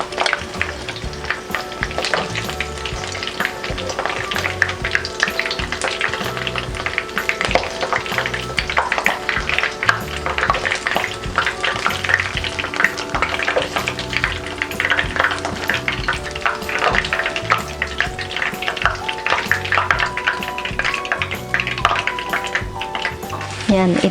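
Crispy kasag crabs fry in a pan, a loud steady oil sizzle with frequent stirring clatter running throughout, while a person talks now and then.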